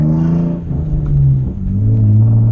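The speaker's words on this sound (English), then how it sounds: "I love the way this exhaust sounds to start with" A deep, loud exhaust rumble from a Hyundai Genesis Coupe R-Spec sports car, throbbing low and steady with slight rises and dips in pitch.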